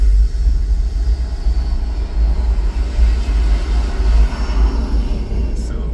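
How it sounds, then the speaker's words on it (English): A loud, deep roaring rumble swells and sustains, heavy low thunder like a powerful jet engine close by. "to the thunder of a jet engine."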